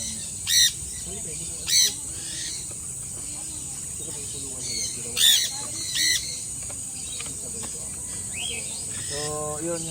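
Birds give sharp, high chirps in a few brief bursts over a steady insect-like hiss during a hand-feeding workshop, with faint voices in the background.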